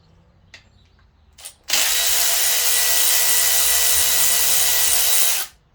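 A ratchet wrench loosens bolts during a 2.5 Duratec engine swap into a ZX4 ST Focus, with a couple of faint clicks first, then one loud, steady, close whirring run lasting about four seconds.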